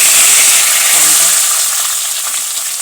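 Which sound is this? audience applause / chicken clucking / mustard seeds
mustard seeds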